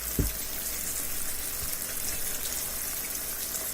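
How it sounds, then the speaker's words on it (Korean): A carbonated bath tablet fizzes in water, giving a steady, soft hiss of rising bubbles with a faint low thump near the start. "탄산포를 물에 넣으면 탄산 기포들이 가볍게 올라와 세정효과에 좋습니다."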